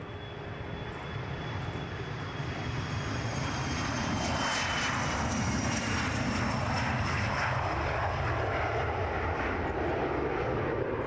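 An Embraer ERJ 145 airliner takes off from Edinburgh airport, jet engines rising from a steady rumble to a loud, sustained roar with a whining tone over it, and no voices.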